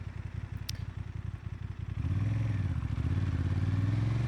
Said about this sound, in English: that's the quick shifter working